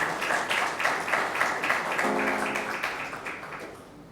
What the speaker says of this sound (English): a big, big round of applause to India Reading Olympiad